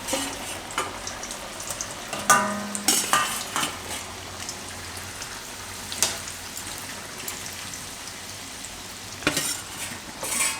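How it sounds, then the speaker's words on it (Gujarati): Steady sizzling of banana curry (dum kela shaak) ingredients frying in a pan, with a few clinks and stirring scrapes over the constant crackle. "અને આપણે તળી લેવું"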